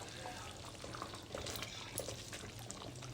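Stuffed eggplant masala curry bubbles and sizzles in oil in a pan, a steady close frying hiss with small popping bursts and no talk over it.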